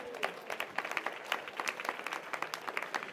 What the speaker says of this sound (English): Round of applause for Narendra Bhai.